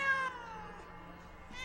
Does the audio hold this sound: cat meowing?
yes